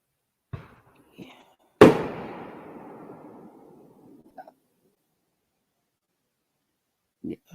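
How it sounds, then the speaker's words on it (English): New Year's fireworks going off in the streets: one sharp loud bang with a long rumbling tail, framed by a few fainter distant pops, in otherwise quiet surroundings. "sorry about the fireworks"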